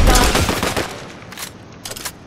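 Assault rifle gunfire in a ranked online video game match: a loud, close burst of rapid shots at first, then a pause and a few shorter, fainter bursts that follow.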